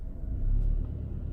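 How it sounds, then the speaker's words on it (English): Seat Leon CUPRA 290 with the exhaust opening, heard as a low, steady engine and exhaust rumble from nearby with a slight swell in the middle, fairly quiet, with no talk. "you'll see the revs go higher and the exhaust opens up"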